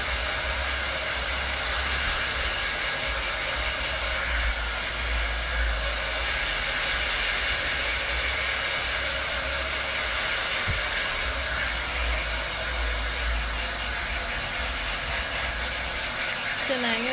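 A hair dryer runs continuously and loudly throughout while drying hair, a steady broadband roar that masks most other sound, with a voice faintly underneath.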